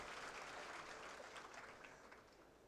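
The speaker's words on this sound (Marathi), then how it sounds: "टाळ्या वाजवा." A crowd at a Shiv Sena gathering claps together in a brief burst of applause that sounds soft and distant, fading a little toward the end.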